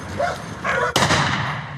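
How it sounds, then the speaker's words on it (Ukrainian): A fighting dog guarding a yard gives a couple of sharp, loud barks, the second cutting in abruptly and ringing on, heard alone without speech. "Подвір'я охороняє бійцівський пес, аби собака не зірвав спецоперацію."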